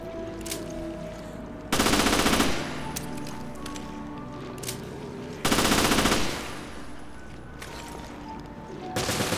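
Two loud bursts of rapid automatic gunfire ring out in the video game Resident Evil Revelations, each lasting under a second, with quieter game sounds in between and a third burst starting at the very end.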